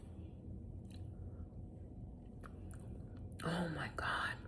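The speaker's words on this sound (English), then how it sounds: "I'm gonna take a little taste at the end here." Food scraped from a fridge container and tasted, with soft chewing and crunching sounds near the mic that grow louder toward the end over a steady low background hum.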